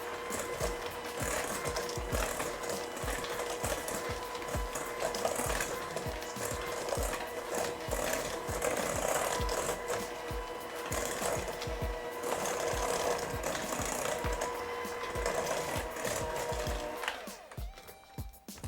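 A mixer creams sugar with Earth Balance vegan butter for vegan chocolate chip cookie dough. It produces a loud, continuous mechanical whir and rasp close by, with no talking, and stops abruptly near the end.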